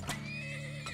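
A horse in the video game Turmoil gives a single loud, close whinny that rises and wavers for about a second, with a short burst at the start and another at the end.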